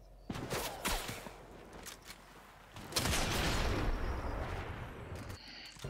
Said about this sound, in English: He sniped me?